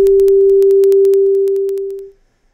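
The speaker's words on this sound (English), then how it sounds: "If we take, for example, this sine wave" A pure, steady sine tone holds at one pitch for about two seconds, then fades out smoothly, with faint clicking ticks along it.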